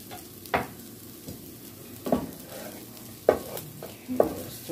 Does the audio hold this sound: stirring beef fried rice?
yes